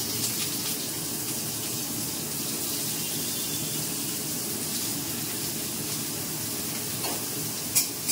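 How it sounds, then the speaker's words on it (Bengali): Pointed gourd (potol) frying in oil after a tempering, giving a steady, moderately loud sizzling hiss that runs throughout with a couple of brief clinks near the end and no talking. "এবার পটলটা ভাজা হোক।"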